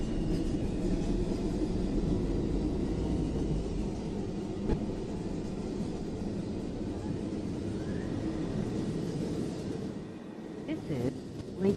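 A New York City R62 local subway train rumbles along the track with a steady low roar and clatter from inside the car. Near the end it briefly dips and then shifts.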